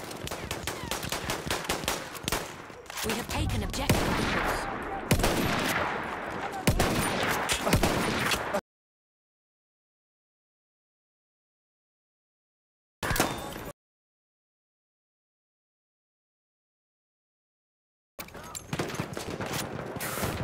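Rapid rifle fire in Battlefield 1 rattles in dense bursts for several seconds, then cuts to silence, with one short burst midway and another volley at the end.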